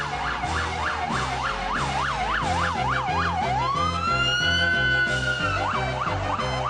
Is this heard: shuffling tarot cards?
no